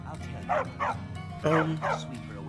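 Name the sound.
dog barking and whimpering, from a video game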